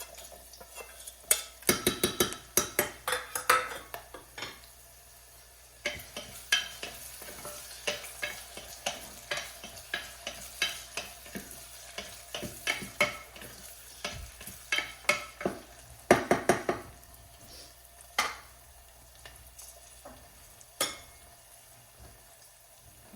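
Quarter-cut potato pieces tumble into a frying pan and are stirred, with steady sizzling and repeated sharp scrapes and clinks of a spoon against the pan, close and fairly loud throughout.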